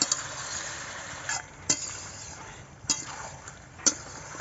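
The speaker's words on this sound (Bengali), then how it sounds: "ভালো করে নেড়ে চেড়ে এটাকে কষিয়ে নিতে হবে মাংস যত ভালো কষা হবে তত ভালো খেতে টেস্ট হবে" Chicken curry stirred and frying in a pan, a steady soft sizzle with a few sharp utensil clinks against the pan spaced through it, close and fairly quiet.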